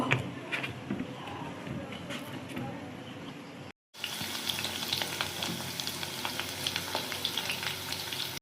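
Pakoras frying in hot oil in a home kitchen, a steady crackling sizzle that runs on with a brief gap midway, then resumes fuller and brighter.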